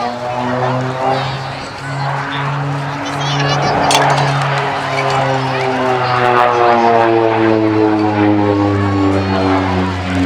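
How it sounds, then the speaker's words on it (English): A Bronco propeller aircraft flies a display at the East Fortune airshow, its loud droning engine tone sliding downward as it passes overhead, with a commentator talking over it. "it's only the second UK flying display by this particular Bronco, which is operated by the Bronco demo team"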